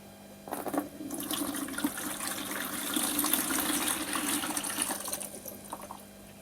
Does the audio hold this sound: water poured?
yes